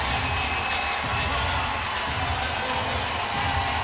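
Basketball arena crowd at a USC versus Mississippi State NCAA women's tournament game in LA, a steady, loud roar of cheering voices filling the building without letup.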